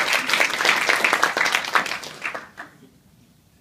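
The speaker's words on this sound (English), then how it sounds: "let's give them a big round of applause" Audience at a Buffalo startup weekend event at UB giving a big round of applause, dense clapping from many hands that stays strong for a couple of seconds and then fades out into near silence.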